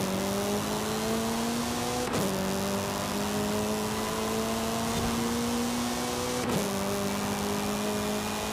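A 2001 Acura Integra Type R racing in Forza Horizon 5, its engine droning steadily at high revs with two sharp gear shifts, loud and continuous with no talking.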